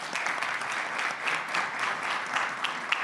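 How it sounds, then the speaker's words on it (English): A room full of conference attendees at a Brussels stage claps for the moderator, a steady, moderately loud wash of applause with a few sharper individual claps standing out near the end. "Ladies and gentlemen, also a round of applause for the moderator"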